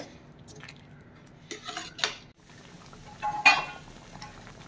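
Spoon or spatula scraping and clinking against a pan while pav bhaji is stirred and mixed, in a few irregular bursts of metal contact over a low steady background, close and fairly quiet with no talking.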